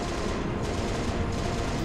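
Sustained burst of cannon fire from a small turret-style gun in Halo Reach, dense and continuous for the whole stretch with no pauses, loud and close, and no voices over it.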